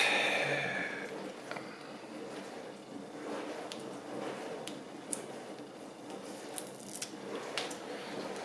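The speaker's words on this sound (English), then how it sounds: "You really need sharp scissors for that." Several faint, sharp snips spaced irregularly as sharp scissors cut car trim material close by in a quiet room, with a soft rustle between cuts.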